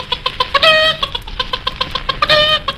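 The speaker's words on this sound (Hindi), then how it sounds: "क्या? मुर्गी?" A chicken clucks in a rapid run of short, close calls, breaking twice into longer, louder squawks, with no talk over it.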